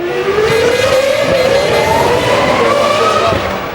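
Barrichello's Ferrari Formula 1 car in the 2001 season races toward a tunnel, its high-pitched engine note climbing steadily as it accelerates, loud and close throughout with no talk.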